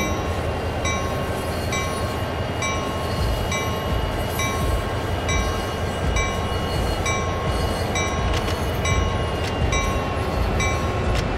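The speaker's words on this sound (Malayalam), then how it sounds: "ട്രെയിൻ മൂവ് ചെയ്ത് തുടങ്ങി മുമ്പിലോട്ട് കഴിച്ചു" A train in a train-driving video game begins to move, with a steady, dense rumble of wheels and carriages and faint rhythmic clicking throughout. No voices are heard.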